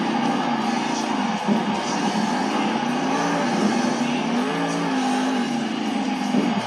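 A monster truck engine roars continuously during a wheelie at an indoor Monster Jam arena event, with loud, rising and falling revs over a wash of crowd noise.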